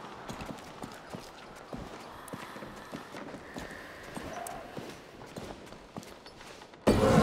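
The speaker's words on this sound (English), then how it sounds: "That's a lovely horse." Horse hooves clip-clop at a steady walking pace in the video game A Plague Tale Requiem, moderately close over faint ambience, ending in a louder sudden noise.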